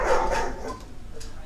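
A dog barks at close range, giving a loud bark at the start and then quieter yips and whimpers in a short indoor burst with no talking.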